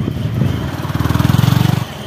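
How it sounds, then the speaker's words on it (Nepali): A motorcycle crosses a suspension bridge over the Mechi, its engine putting out a close, rhythmic putter that swells and pulses steadily before cutting away. "अर्को बाइक आयो फेरि डिस्टर्ब"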